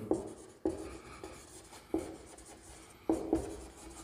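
A pen scratches across paper in short strokes, with about five or six distinct bursts of writing separated by brief pauses, close and clear while a Pythagoras theorem solution is worked out for a Class 10 circles exercise.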